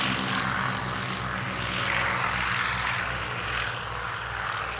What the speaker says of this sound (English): The Lysander was designed as a multi-role army support aircraft